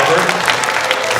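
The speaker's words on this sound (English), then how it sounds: "Let's give Albert a good round of applause" Audience applause for a child named Albert at a children's music show in Henderson, Nevada, a short loud round of clapping with voices mixed in.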